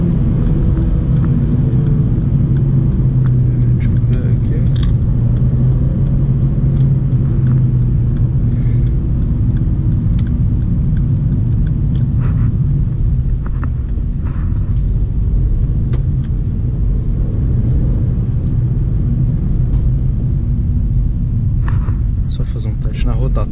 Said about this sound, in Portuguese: ele tem aquele acelerador colado no chão.